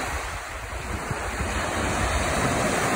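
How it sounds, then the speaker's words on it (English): Onshore wind pushes waves against the shore of Lake Mille Lacs at Father Hennepin State Park, Minnesota. Surf wash and buffeting wind noise hold steady and fairly loud throughout. "There's a pretty good onshore wind right now."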